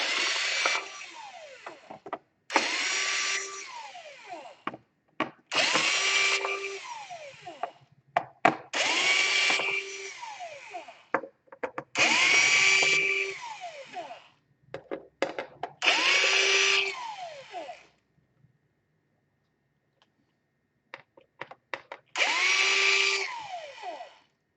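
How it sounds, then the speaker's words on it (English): A power screwdriver works screws out of an Alienware 18 laptop during repair, in about seven whirring bursts of a few seconds each, rising and falling in pitch, separated by short pauses and small clicks, close and fairly loud. "let's start removing screws right there"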